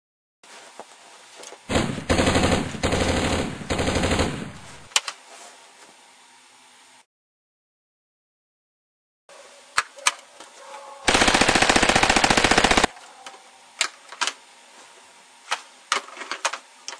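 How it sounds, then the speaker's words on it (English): Airsoft guns fire in two loud, sustained automatic bursts separated by a gap of silence, with scattered sharp single shots and clicks around them and no talking. "every weapon that I'm going to be using is an airsoft gun"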